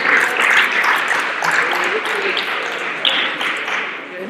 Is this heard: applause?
yes